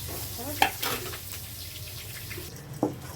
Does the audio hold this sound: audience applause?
no